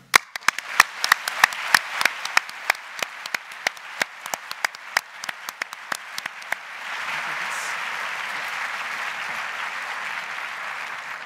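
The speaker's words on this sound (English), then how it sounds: "So a round of applause for everybody who helped to make CHI" Audience applause at the CHI 2023 conference closing session, heard first as sharp, spaced claps close by and then as a denser, steadier wash of clapping from the wider hall.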